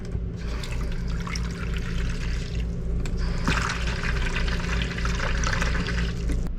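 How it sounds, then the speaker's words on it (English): Water runs steadily from the faucets of an RV camper during a check of the hot and cold taps, a continuous close rushing flow over a low background hum. "I'm just going to check to make sure that all my faucets are working correctly."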